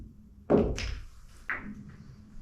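A pool cue strikes the cue ball hard on a fast, full hit, and a sharp near thock follows from a collision a moment later. Another fainter clack comes about a second after that, with quiet room tone between the strikes.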